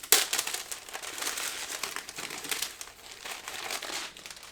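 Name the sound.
crinkling tissue paper wrapping being opened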